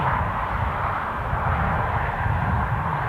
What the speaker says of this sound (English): That'll be our KLM, assuming a 737